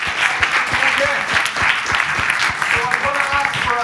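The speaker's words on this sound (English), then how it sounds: "Big round of applause, please." A theatre audience applauds at a positive-psychology talk, dense steady clapping close and loud throughout with a few voices faintly mixed in.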